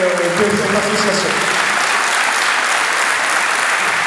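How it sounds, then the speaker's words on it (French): An audience at a charity association event bursts into loud, dense applause that starts right after a brief bit of voice and carries on strongly to the end. "vous pouvez déjà nous applaudir pour votre présence et la grande réussite de ce mouvement et de cette association"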